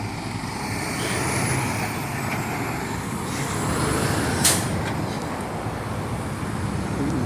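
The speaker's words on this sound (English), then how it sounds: "All this loud trucks." Loud trucks pass by on a road in a broad, steady roar that swells and fades as they go, with no talking.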